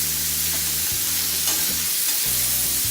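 Chicken and cauliflower fry on a hot tawa with a loud, dense hiss, while a spatula gives a few low scraping stirs; close up, with no voices.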